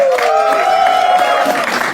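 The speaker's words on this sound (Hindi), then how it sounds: "जोरदार तालियों के साथ" A studio audience at a comedy game show gives a loud, continuous round of applause, with a sustained cheering voice or whoop running through the steady clapping.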